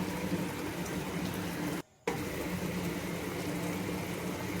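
Katla fish curry gravy simmering on low heat, giving a steady bubbling, gurgling wash of sound that cuts out briefly partway through and then resumes at the same level.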